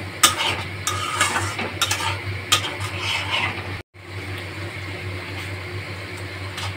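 A spoon repeatedly clinks and scrapes as fried patal is stirred into a simmering yogurt gravy, over a low steady hum, with a brief cutout midway.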